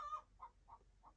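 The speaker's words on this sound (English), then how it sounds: "there's a chicken that's going nuts outside my window" A chicken clucks loudly just outside a window, a sharp squawk followed by three short, evenly spaced clucks over a low background hum.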